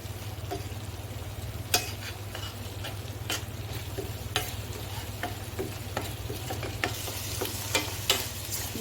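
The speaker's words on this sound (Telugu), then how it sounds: "ఉల్లిపాయ పేస్ట్ అంటే బాగా వేగాలండి" Onion paste frying in oil in a pan, a steady close sizzle with a low continuous hum beneath and occasional sharp clicks and taps from stirring, with no talking.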